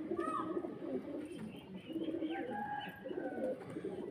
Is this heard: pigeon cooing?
yes